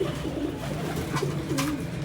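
A few pigeons coo in their coop, a continuous close chorus of low, throaty rolling calls with faint rustling underneath.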